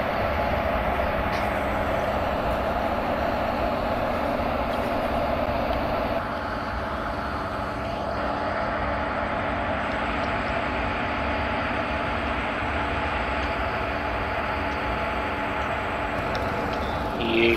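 Locomotive running on the Aluva to Angamalai route in Indian Railway Train Simulator, a steady rumbling engine drone with rolling wheel noise that continues without a break, close and even in level.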